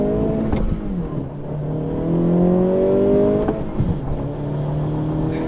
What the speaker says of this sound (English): So I'm about to do an unmeasured launch real quick.